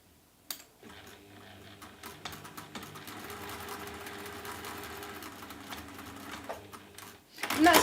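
A sewing machine runs steadily while stitching along a marked line on a Tilda Snowman quilt block, a continuous mechanical hum with a brief pause near the end, followed by a louder clatter.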